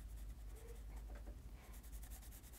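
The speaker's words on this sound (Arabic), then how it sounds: "هيا نقوم بالتلوين نلون أولا المساحة البيضاء كما ترون بألوان" Pastel crayons being rubbed across paper to colour in an autumn leaf drawing, giving a soft, close scratching that runs steadily under a low background hum.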